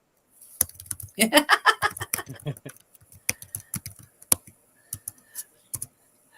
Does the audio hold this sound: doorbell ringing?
no